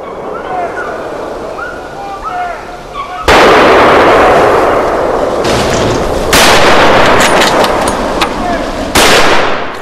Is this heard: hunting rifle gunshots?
yes